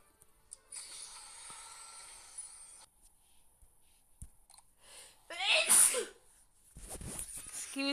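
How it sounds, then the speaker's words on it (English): A single sharp sneeze bursts out near the middle, loud and close, with quiet background noise and brief breathy sounds around it. "Excuse me, just a sneeze."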